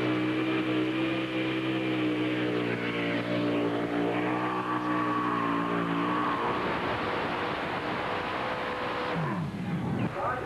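A two-wheel-drive pulling truck at a 1991 Chapel Hill, Tennessee truck pull roars loudly, its engine revving with rising, strained harmonics through the pull, then turning into broadband rumble and clatter.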